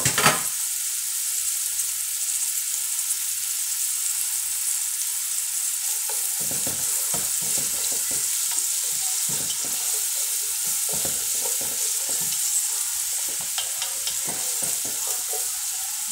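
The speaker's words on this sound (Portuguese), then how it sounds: "Eu não vou deixar dourar muito, eu vou colocar já a cebola aqui" Onion fries in a pan alongside browning chambaril, a steady close sizzle with a loud initial burst and scattered crackles and pops throughout.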